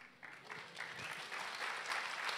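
A small audience at a technical talk breaks into light, scattered clapping, quiet and somewhat distant, building slightly over a couple of seconds.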